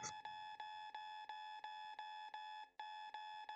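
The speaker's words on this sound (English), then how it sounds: "the Institute's emergency alarm went off" The Institute's emergency alarm in the video game Virche Evermore rings as a repeating electronic tone, evenly spaced pulses about three per second with one brief gap, clear and steady with no talking over it.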